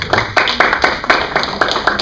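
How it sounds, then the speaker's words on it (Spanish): Congregation applauding in church after a sermon on prayer, a series of sharp, rhythmic hand claps close by, loud and evenly spaced, with no speech over them. "Ese aplauso que sea para Cristo"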